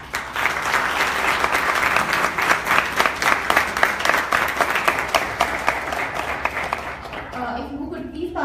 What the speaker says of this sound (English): so all of you can see them and applaud them.